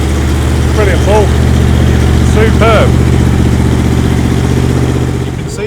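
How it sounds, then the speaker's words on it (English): A Triumph Stag's 3-litre V8 engine runs with a loud, steady, deep hum that continues throughout, while people talk over it. "You can see we have a V8 engine behind me"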